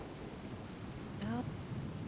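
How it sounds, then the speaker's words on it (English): A mild storm rumbles in a low, steady wash of rain and wind, with a brief rising whistle-like gust near the middle. "As you're falling asleep, you can start to hear the storm pick up and the winds begin to gush."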